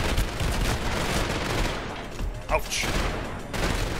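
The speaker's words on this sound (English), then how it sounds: "Why don't I just shoot the mines in here?" Dense, continuous gunfire fills the clip as a player shoots mines in the video game Trepang2, with booming impacts layered throughout. A voice briefly exclaims partway through.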